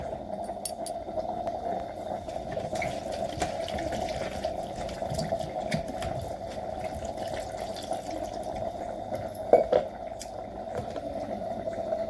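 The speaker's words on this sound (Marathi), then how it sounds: "आता आपण जो स्वच्छ धुवून उकडायला घालूया." Chopped bitter gourd is rinsed under running tap water in a sink, a steady close splashing with small clinks and one brief louder splash near the end.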